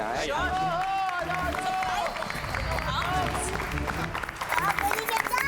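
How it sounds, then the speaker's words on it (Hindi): An audience claps through a comedy-show award ceremony, a continuous bed of applause and crowd noise under a voice and background music. "तालियां तालियां भाई, तालियां।"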